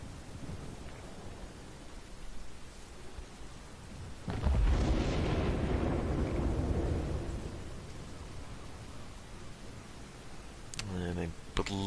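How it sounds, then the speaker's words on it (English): Torpedo explosions in the naval battle game World of Warships come through as one deep, rumbling boom that swells midway and slowly fades under quieter background game noise. "I believe those are Fubuki torpedoes"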